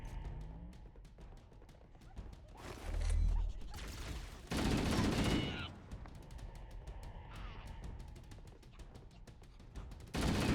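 Rapid automatic assault rifle fire from the video game Halo CE rattles in quick repeated bursts, broken by a couple of louder, longer blasts, with faint speech in the background.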